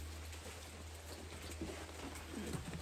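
Steady light rain pattering softly and evenly throughout, faint and continuous with no voices.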